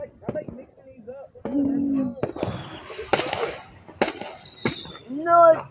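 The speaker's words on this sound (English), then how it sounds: "Okay, fireworks." Fireworks going off nearby in a short series of sharp bangs, crackles and whistling fizzes, mixed with people talking and calling out between the bursts.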